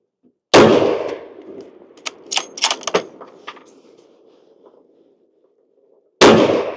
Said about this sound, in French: j'ai tiré mes 5 coups pour limer mon canon le premier coup